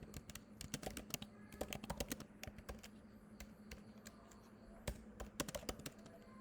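Rapid typing on a computer keyboard while text is entered into a health text-analysis document, with sharp clustered key clicks in irregular bursts, close and fairly quiet, and no talking.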